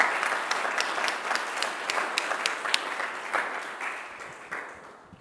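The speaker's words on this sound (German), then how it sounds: "Applaus" Steady applause fills a lecture hall after a talk on artificial intelligence in cancer care, dense clapping that holds for about five seconds before gradually thinning and fading.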